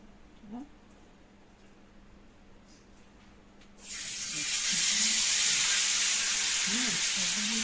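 Large vanjaram fish pieces dropped into hot oil, bursting into a loud, steady sizzle and hiss halfway through after a quieter stretch, with a voice speaking briefly beneath it.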